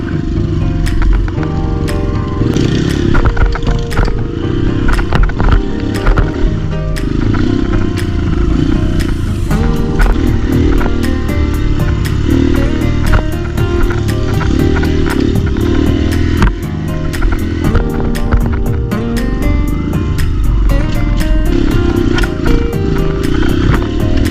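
An enduro motorcycle rides a forest trail after a rocky stretch, its engine roaring loud and constant with rattling clatter and ticking from the trail throughout.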